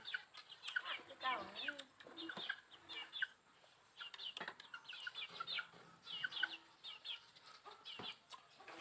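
Chickens cluck and chirp softly around a home yard at feeding time, a string of quiet, irregular calls with faint voices and household noise in the background.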